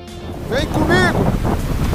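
Arctic Ocean surf at the shore at the far north of North America: steady broadband wash and wind noise on the microphone, with a voice calling out over the waves.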